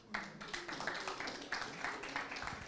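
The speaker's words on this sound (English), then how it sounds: "Welcome and huge applause." An audience at a logistics hackathon pitch session applauds a team taking the stage, a brief, fairly faint patter of many hands clapping, with a voice mixed in.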